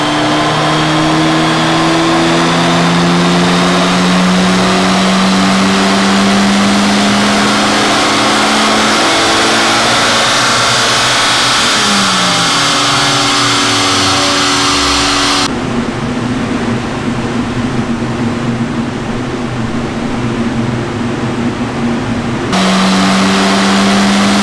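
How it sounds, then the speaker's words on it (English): Front-wheel-drive Audi TT Mk2 with an induction kit revving on a dyno, engine note climbing steadily in long sustained pulls, loud and close, with a drop in pitch partway and a brief lull before revving again. "It's on the dyno now. This is only a front wheel drive Audi TT."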